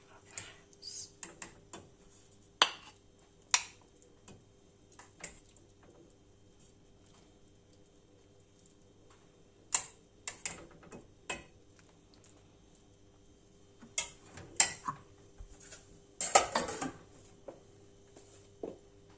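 Serving plate and dishes are handled after cooking a chickpea and zucchini dish, with scattered light clinks and taps of crockery and utensils, sparse and close amid quiet pauses.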